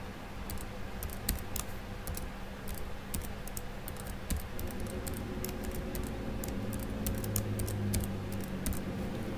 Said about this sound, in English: I was typing an old password.